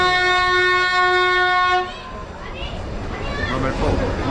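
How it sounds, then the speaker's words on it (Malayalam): An Ooty toy train on the push-pull mountain railway sounds a long, loud horn. After the horn stops, the rumble of the train carries on under people talking and children's voices nearby. "ഇത് ഊട്ടി മെട്രോ ആണ്."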